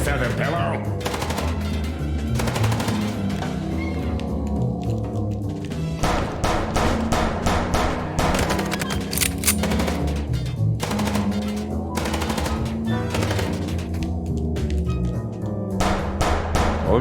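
Rapid bursts of gunfire from the video game Chicken Police rattle in loud, repeated volleys with short gaps between them, with occasional talk mixed in.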